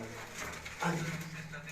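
Sialkoti pigeons on a Sialkot rooftop give a low, steady cooing murmur, with one louder coo swelling midway; a voice is faintly present.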